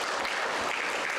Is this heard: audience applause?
yes